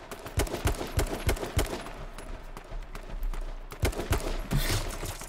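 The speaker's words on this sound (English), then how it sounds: "I've got three people shooting at me" Rapid gunfire from several players in the battle-royale game H1Z1, dense overlapping shots crackling in quick bursts throughout, moderately loud with no clear pause.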